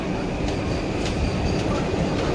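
An Intercity train pulls away from a station on the Vapi–Surat line, a close, continuous rumble of wheels with faint rhythmic clacks over the rails.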